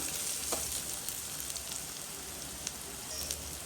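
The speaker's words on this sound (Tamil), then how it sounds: "வெங்காயம் பார்த்தீங்கன்னா கொஞ்சம் வளர்ந்து கொண்டிருக்குது இன்னும் கொஞ்சம் நல்லா வதங்கட்டுக்கும்" Onions and curry leaves sauté in a pan for a crab kuzhambu, giving a steady, soft frying sizzle with scattered crackles and no talk.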